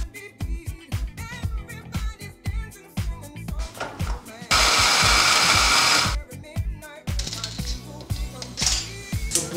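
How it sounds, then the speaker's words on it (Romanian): A food processor whirs loudly and steadily for about a second and a half as it chops biscuits for a decadent chocolate tart, set within a stretch of rhythmic kitchen music. "să tocăm biscuiții"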